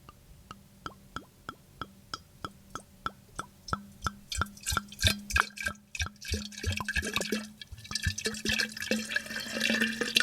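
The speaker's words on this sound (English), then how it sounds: "As you can hear, Kim is pouring it out nice" Aged wine glugs from a bottle into a decanter in rapid, rhythmic gurgles that merge into a steady liquid pour, close up with no talking.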